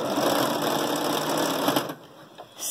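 Sewing machine backstitching elastic onto a 3D fabric face mask, a steady close whirring stitch that runs continuously for about two seconds, then stops, with a brief clatter of the mechanism afterward.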